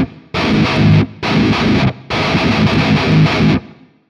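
Distorted electric guitar through a Quad Cortex with reverb and a slight delay, playing three loud chugging bursts with brief gaps and a reverb tail fading at the end.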